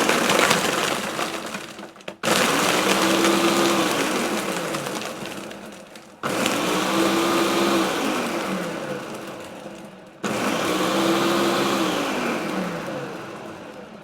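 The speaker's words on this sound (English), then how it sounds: "so I'm just going to leave you to watch the blender work." A blender grinds ice for a frozen salted caramel hot chocolate in three loud bursts of steady roaring whir, each starting abruptly and easing slightly, with brief gaps between them.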